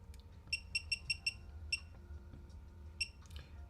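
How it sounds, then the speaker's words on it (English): An electronic device buzzer beeps in short, sharp high-pitched pulses: a quick run of five evenly spaced beeps, then a single beep, then another pair of beeps after a pause, all fairly faint against low background hum. "Is there a way of turning this poxy buzzer off?"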